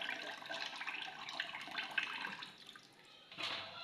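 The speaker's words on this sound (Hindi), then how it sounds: "ये एक्स्ट्रा पानी भी निकल जाएगा" Excess water draining off freshly washed dry-fruit pieces being lifted out with a slotted spoon, a soft steady trickle and splash close by, with a brief louder gush near the end.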